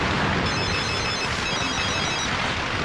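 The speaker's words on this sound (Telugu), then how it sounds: "రింగ్ అవుతుంది" A telephone rings continuously and loudly in a Telugu movie scene, a harsh electronic ringing with no pauses, filling the whole moment.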